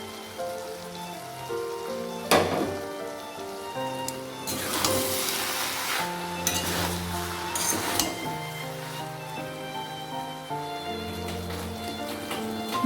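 Prawns frying with bottle gourd in a pan, a crackling sizzle that swells in bursts as the mixture is stirred, with occasional utensil clinks, while soft background music plays throughout.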